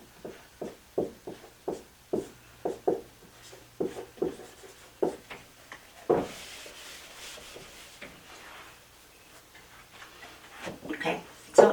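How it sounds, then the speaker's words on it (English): Chalk or marker taps and strokes on a board as math is written out, a string of short, close, rhythmic ticks and scrapes with brief pauses, then a longer rubbing stretch and a few final strokes. "I'm just going to write this stuff up here."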